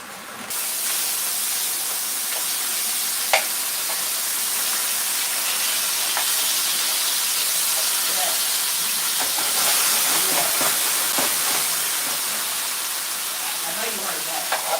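Lamb chops frying in a pan, a steady broadband sizzle and hiss with occasional pops and spits, close and continuous throughout.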